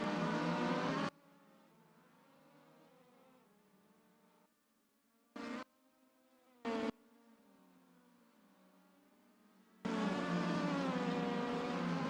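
Race cars on a formation lap at the Macau Grand Prix, a thin engine whine buzzing in the distance through a quiet stretch, with a few brief passes and louder, fuller engine roar at the start and end.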